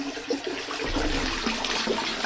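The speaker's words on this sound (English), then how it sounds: "I want to pull this filter out so it doesn't suck up the rest of the food when I put it in there." Water sloshes and drains as an aquarium filter is pulled out of a red tail catfish tank, with a steady close gurgling rush and a few splashy bursts throughout.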